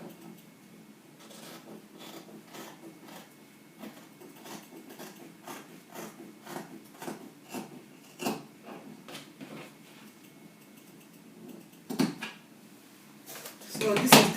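Scissors trim the front neckline of a fabric gown in a run of quiet, irregular snips and rustles, close by, with a few sharper clicks near the end.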